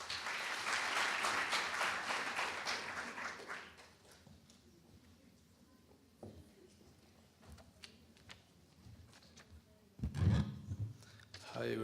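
Audience applause welcoming architect Adamo Faiden to a panel, a dense clapping wash for about four seconds that fades out, then scattered room noise and a brief thump.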